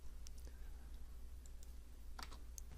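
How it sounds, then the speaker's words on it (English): Code typed on a computer keyboard, with soft scattered key taps that come in a quick irregular cluster near the end, faint against a low steady hum. "And type this code."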